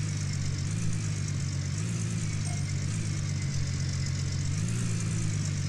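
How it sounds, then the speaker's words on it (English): A truck engine idles steadily in Gold Rush - The Game, with a constant low droning hum and a faint surging cycle, alone and close. "leave the truck running"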